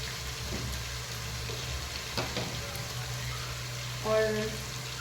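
Ginger, garlic and red chilli frying in oil in a pan for Hyderabadi tarkari biryani, giving a steady, low sizzle with a brief louder stirring scrape near the end, and no talk over it.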